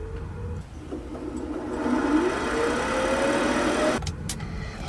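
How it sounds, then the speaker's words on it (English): A 1972 VW Beetle generator spins up like an electric motor, a rising whine climbing steadily in pitch for about three seconds over a low engine-bay hum, then cutting off abruptly. "it's going to cause the generator to turn like an electric motor"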